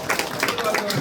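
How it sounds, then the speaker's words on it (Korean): At a committee launch ceremony, an audience claps for its chairman in a brief, brisk burst of many hands at moderate distance. "다시 한번 우리 송재봉 위원장님께 큰 박수 부탁드리겠습니다."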